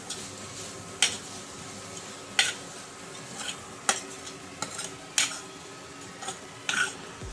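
A spoon stirs Kashmiri red chilli powder into a hot, sizzling tempering for pav bhaji, sharp metal scrapes and taps against the pan sounding every second or so over a quiet, steady sizzle.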